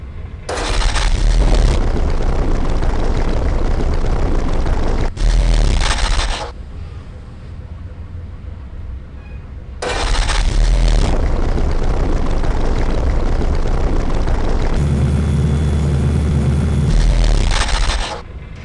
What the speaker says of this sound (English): That's the throttle for the starboard side engine.